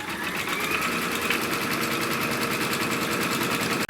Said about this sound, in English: the first thing that's going to stitch off is going to be a little placement line, and that's just done directly on our stabilizer